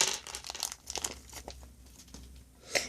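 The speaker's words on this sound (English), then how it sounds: "Let me rip it open off screen real quick for you." Plastic blind bag for a Walking Dead building-set minifigure being ripped open by hand, a close series of crinkling, tearing rustles in short bursts, ending with a sharper crackle.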